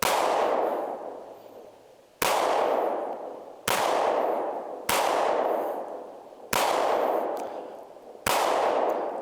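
An FN510 10mm handgun fires at steel targets outdoors, six sharp shots spaced a second or two apart, each followed by a ringing metallic clang that decays slowly, no talking.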